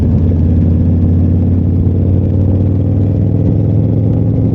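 2005 Victory Hammer motorcycle ridden along a country road, its engine giving a loud, steady low rumble with a constant throb and no talk.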